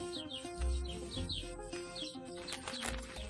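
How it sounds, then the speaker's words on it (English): Migratory birds wintering at Chongqing Liangping Shuanghui Lake National Wetland Park give repeated high chirps and calls, with bursts of wing flapping, over steady outdoor background noise at moderate level. "Every year, flocks of migratory birds fly over the mountains from distant Siberia to spend the winter here."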